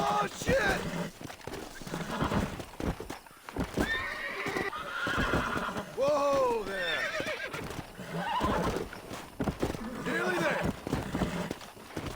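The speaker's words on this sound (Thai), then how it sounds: "เดินเข้าไปหาม้าตัวที่เราจะจับนะครับ" In the mobile Red Dead Redemption game, a horse being caught neighs and whinnies repeatedly over clopping hooves, loud and close throughout, while someone talks over it.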